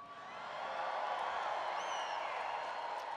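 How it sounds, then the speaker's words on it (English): A large crowd at a Trump MAGA rally in Green Bay cheers and applauds, a dense, steady roar of clapping and whooping that swells in and holds at a distance without any distinct voice. "Boy, this crowd has a lot of enthusiasm."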